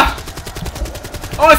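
Rapid automatic gunfire from a sentry gun in the video game Black Ops 3, a steady burst of evenly spaced shots that stays loud throughout, with a short vocal exclamation near the end.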